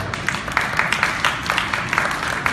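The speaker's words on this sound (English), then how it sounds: "Clap it up if you have Showtime" A small comedy club audience in Minneapolis claps steadily for a few seconds during a stand-up crowd-work set, giving a moderate, even patter of hands with no voices over it.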